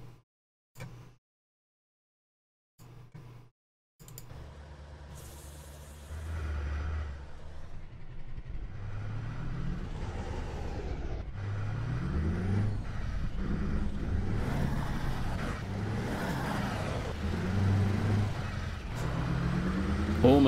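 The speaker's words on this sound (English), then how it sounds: "So I can use the engine braking with this trailer, I just need to be on the brakes at the same time" Simulated heavy truck pulling a trailer in Euro Truck Simulator 2 with engine braking engaged, a steady low drone and rumble rising and shifting in pitch, preceded by brief silent gaps and short bursts.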